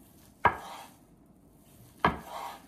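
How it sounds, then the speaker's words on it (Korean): Two distinct knife chops land on a cutting board about a second and a half apart, slicing rolled sheets of thin egg crepe into strips, crisp and close in an otherwise quiet kitchen. "세 장을 겹쳐놓고 말아줍니다. 채를 썰어주세요."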